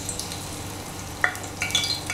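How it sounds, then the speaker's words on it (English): Onions and garlic sizzle in hot vegetable oil with a soft, steady hiss and a few sharp crackles and pops near the end, heard up close and without voices. "I'll be throwing in some onions. I'll be scraping in some garlic cloves."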